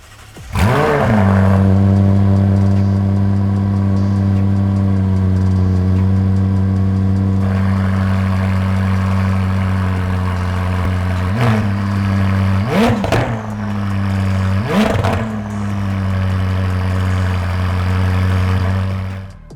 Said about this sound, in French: le son des V8 McLaren est bien particulier. Ici, oubliez l'échappement sport d'origine, il est remplacé par un Evo X à clapet.